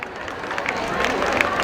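Applause from the audience at a student felicitation ceremony during a Swarnim Deepawali celebration in Siliguri: steady, dense clapping that holds through the moment, with faint crowd murmur beneath.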